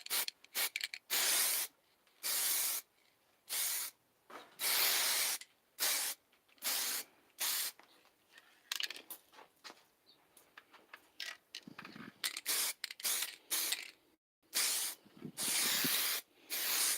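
Spray paint, including a chip guard coating, hisses in repeated short bursts of a second or so with brief pauses between them, loud and close, while painting clawfoot tub shower curtain rings.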